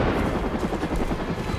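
A powerful gun or rocket launcher fired in the Far Cry 5 video game, a dense, loud continuous roar of rapid gunfire and explosions at night.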